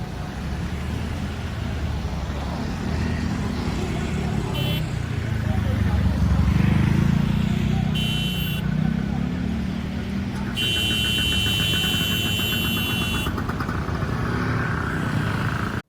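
Busy street traffic in Bangkok's Chinatown with motor scooter engines buzzing past close by, a constant rumble of vehicles and a few beeping tones rising above it.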